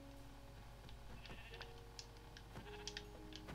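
Sheep bleat repeatedly in the Minecraft video game, sharp game-sound calls recurring over a steady background with no talking.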